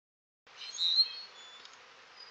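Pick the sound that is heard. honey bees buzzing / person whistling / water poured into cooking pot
honey bees buzzing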